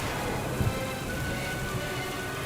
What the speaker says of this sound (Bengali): বৃষ্টি পড়েই যাইতেছে হয়তো আজকে রাতে আর কোনো বৃষ্টি থামবে না